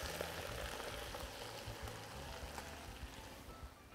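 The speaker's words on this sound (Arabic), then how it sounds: "وبعدين حطيت البرغل وعم بقلبهم" Coarse soaked bulgur with green fava beans and onion being stirred in a pot, a quiet continuous sizzle with soft scraping and shuffling of the grains throughout.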